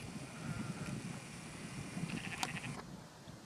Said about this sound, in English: I continue to hear sheep. We're kind of close to them.